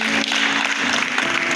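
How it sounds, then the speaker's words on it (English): Clapping rolls through a business conference audience in Nigeria's Gtext Holdings growth event, a steady, moderately loud applause from a crowd, with a faint tonal hum underneath. "You deserve a round of applause."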